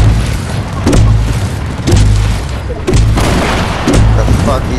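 Gunfire in the Fortnite video game: heavy booming shots land roughly once a second in a steady rhythm, loud and close over a dense, rumbling battle mix with low tonal hum.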